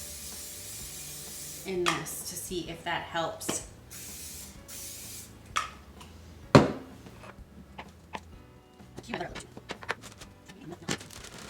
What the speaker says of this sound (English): we're gonna try some cooking spray